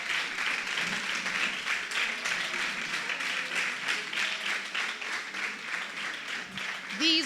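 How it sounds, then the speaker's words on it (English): A crowd applauds the production team at a live event, producing a steady, dense wash of clapping that carries on for several seconds, with voices faintly mixed in beneath it. "I feel like we owe them a round of applause"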